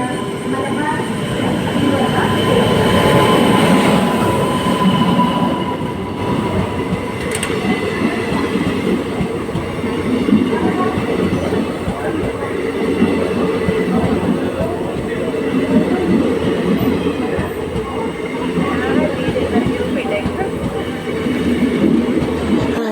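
Continuous rumble and rattle of a moving train heard from inside a carriage, loud and steady throughout, with faint voices blending into the noise.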